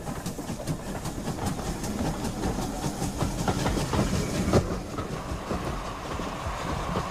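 A steam condensing 9700 tank locomotive rumbles along steadily with rhythmic clickety-clack of wheels on rail joints and a hissing undertone, moderately close and continuous throughout.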